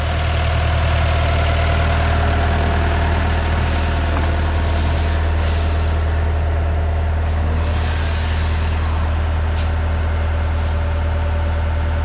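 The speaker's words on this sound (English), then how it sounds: "I just want to take a picture of the machine because I've never seen an excavator" A heavy diesel excavator engine idles steadily and close by, a deep continuous low rumble with mechanical clatter above it, broken by a couple of brief hissing bursts. No one speaks.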